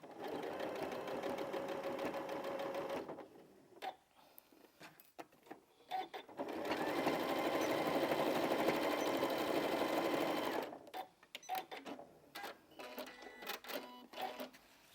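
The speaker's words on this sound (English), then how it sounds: "I'm going to back stitch. We want it nice and strong there." A sewing machine back stitches an invisible zip into a cushion in two steady whirring runs split by a short pause, then clicks and fabric handling, close and moderately quiet with no voices.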